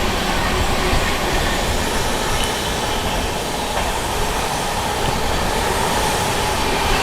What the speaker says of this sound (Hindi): और यहाँ लिच्छवी एक्सप्रेस अराइव कर रही है आनंद विहार सीतामढ़ी फतेहपुर पे